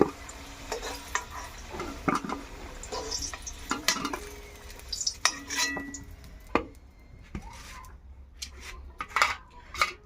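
Fried potatoes being stirred and scooped out of a pan, with scraping, clinking utensil strokes and a low sizzle of frying oil beneath, fairly quiet and with no talking.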